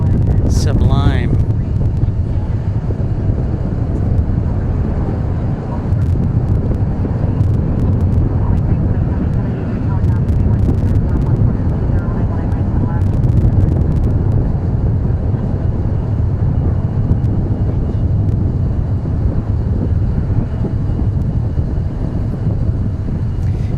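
A plane landing at DFW Airport, heard as a steady, loud broadband roar of jet engine and wind that holds across the whole stretch, with a brief higher whine near the start.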